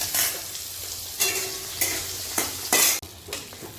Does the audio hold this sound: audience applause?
no